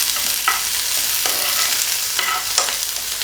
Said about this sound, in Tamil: நம்ம கட் பண்ணி வச்சுருக்கிற வெங்காயம் சேர்த்துட்டு நல்லா நம்ம வதக்கி விட்டுக்கிடணும்